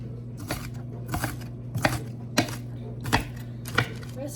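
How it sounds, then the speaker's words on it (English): Kitchen knife dicing an onion on a cutting board, a series of sharp, evenly spaced chops about every half to three-quarters of a second over a steady low background hum. "So here I'm just dicing, not mincing, just dicing my onions here."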